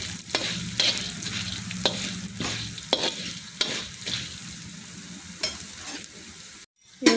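Coriander seeds and cumin dry roasting in a pan over a medium flame for a curry leaf powder, a soft continuous crackle broken by repeated scraping strokes of stirring, with no talk.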